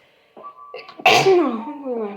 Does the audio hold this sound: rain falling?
no